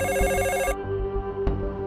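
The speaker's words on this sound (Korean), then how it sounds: "드디어 포장마차로 범인의 전화가 걸려옵니다." A telephone rings inside a Korean street-food tent, a bright, close, warbling ring that stops abruptly partway through, followed by a quieter room.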